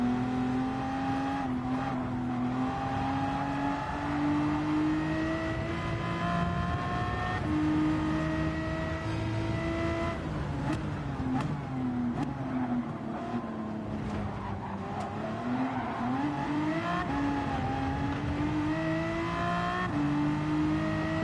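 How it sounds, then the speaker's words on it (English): In the Gran Turismo 7 racing game, a Lamborghini race car's engine climbs steadily through the gears with repeated rising howls, mixed with the roar of other cars and occasional tire squeal, loud and continuous throughout. "I forgot about the Lamborghini having that good start."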